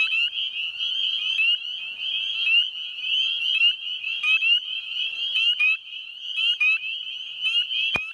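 Frogs call continuously at night with a dense, high-pitched trilling chorus, loud and close, ending with a brief sharp click.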